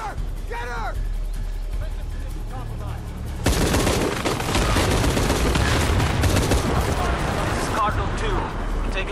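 Gunfire from a weapon in the game Shadow of the Tomb Raider: a loud, dense burst of rapid shots erupts partway through and continues steadily, following a quieter stretch with chirpy game sounds and speech.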